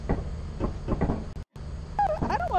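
A door in the Lethal Company video game, heard as clunking mechanical knocks and a brief dropout, then a warbling metallic screech as it slides open, fairly loud and close.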